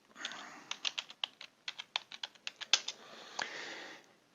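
Wi-Fi password being typed on a computer keyboard, a run of about fifteen crisp, close keystrokes at an irregular, quick pace with a brief pause, no voices.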